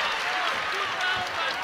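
A basketball arena crowd at an NCAA women's tournament game between Villanova and Michigan sends up a sustained broadband roar of cheering and clapping, moderately loud, with a commentator's voice over it.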